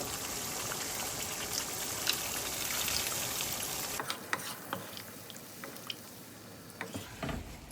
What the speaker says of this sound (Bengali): এখন আমি এতে দিয়ে দিব গরম পানি